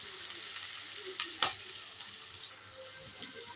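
Vegetables frying for khara bath crackle and hiss quietly in a pan, with spatula scrapes and a sharp clatter near the middle, no voices.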